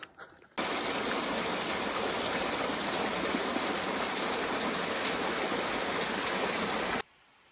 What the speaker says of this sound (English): So this is the river where the suspension bridge is out.